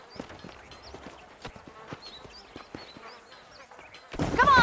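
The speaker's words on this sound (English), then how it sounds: "Well done, Mr. Marston. These are fine horses." Horse hooves clip-clopping in the Western video game Red Dead Redemption, a steady irregular patter of hoof knocks with faint insect-like chirps, before a louder burst of sound at the very end.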